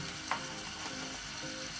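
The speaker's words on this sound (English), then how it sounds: "You can hear the sizzling." Tomatoes sizzle in a pot while beef pilau cooks, giving a steady, close frying hiss with no talking and a faint clink near the start.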